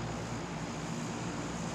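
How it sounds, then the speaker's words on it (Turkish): Steady airplane engine drone in PUBG, a continuous low propeller hum that holds at an even level throughout with no talk over it. "Şu uçak ses yapmasa iyi olur aslında."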